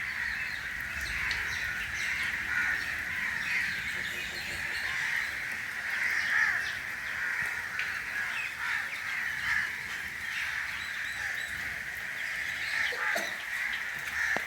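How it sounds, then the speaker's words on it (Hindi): A crowd of crows calls outdoors on a rainy morning, with steady, overlapping cawing close by that runs through the whole stretch over faint background noise. "सुबह का बाहर का व्यू है और परिंदों की आवाज़ जो मुझे बहुत पसंद होती है"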